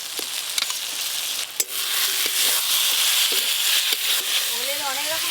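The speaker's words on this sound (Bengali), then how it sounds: "এবার কষানো মশলার ওপরে ভেজে রাখা ওলগুলো দিয়ে দেবো।" Fried elephant foot yam pieces tipped into spice paste cooked down in oil, setting off a loud, steady sizzle with a few stirring knocks and scrapes close by.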